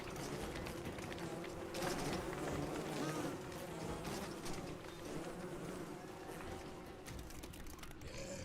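Bees buzz steadily throughout a video game scene, a continuous insect drone with faint mechanical clicks underneath, moderately quiet and without speech.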